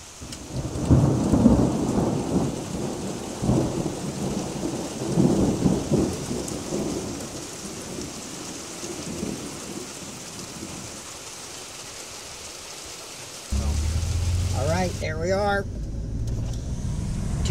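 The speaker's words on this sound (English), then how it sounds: "I'm going to put up my other video about Mount Lemmon getting some rain" Rain falls and thunder rumbles on Mount Lemmon near Tucson, Arizona, with deep rolling booms over a steady hiss of rain, while a voice talks partway through and a passing vehicle is heard near the end.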